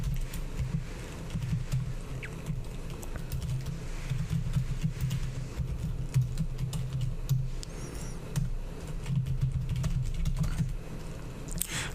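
Commands are typed on a computer keyboard, a continuous close patter of keystrokes over twelve seconds with brief pauses and a few heavier key presses, no voices.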